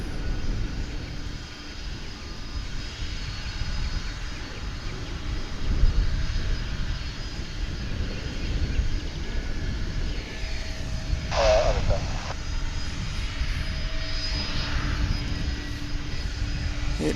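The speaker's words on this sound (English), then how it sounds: "if you hear some engines in the background, you are right." Aircraft engines at DFW International Airport whine steadily in the distance, a continuous low drone with a brief brighter burst partway through, carrying on throughout without a break.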